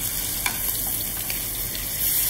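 Yellowtail fillet searing skin-down in a hot pan, a steady broadband sizzle running close and even throughout, with a few faint ticks and pops on top and no voices.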